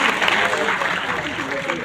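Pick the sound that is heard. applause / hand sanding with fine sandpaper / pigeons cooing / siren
applause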